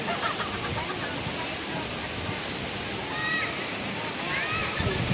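Palale Falls in Malinao, Albay pours with a steady broad rushing roar of falling water, constant and close, with faint voices in the background.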